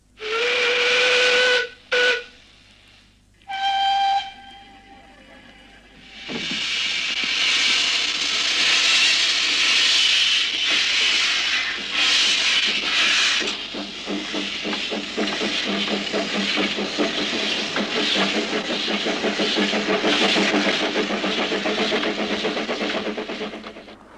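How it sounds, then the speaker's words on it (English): Two steam locomotives on a Welsh narrow-gauge railway at Abergynolwyn trade loud whistles, a few sharp toots back and forth, then one departs with a long burst of hissing steam and quickening chuffs. "At Abergynolwyn, the old lady waits for Edward Thomas. They exchange whistles and depart."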